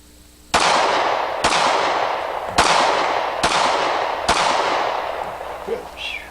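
An AMT .45 ACP backup pistol fires five loud, sharp shots spaced roughly a second apart, each leaving a short ringing decay.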